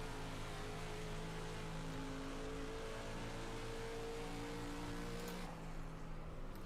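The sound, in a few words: race car engine on track in iRacing video game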